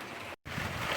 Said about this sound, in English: If this rain keeps up like this, guys, we're very soon going to have a full IBC, and even two.